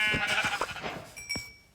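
Sheep in the Minecraft video game bleat several times in quick succession, clear and close, followed by a short bright chime, while a person plays without speaking.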